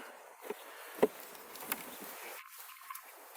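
Honeybees robbing a dead-out hive in a bee yard, a faint steady buzz of many insects with a few brief louder passes close by, under quiet outdoor ambience.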